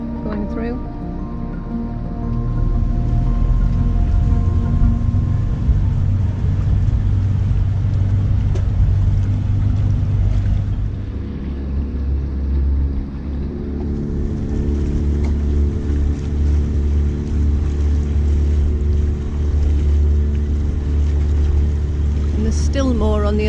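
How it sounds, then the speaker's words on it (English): Motorboats passing under a bridge on a final sail of the season, their engines a close, steady low drone that shifts in pitch as one boat gives way to the next, with people talking over it. "Some lovely boats going through."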